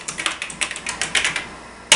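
Keys clatter on a Tandy 1000 EX computer keyboard in a quick, uneven burst of close taps, a short pause, then one sharp final keystroke.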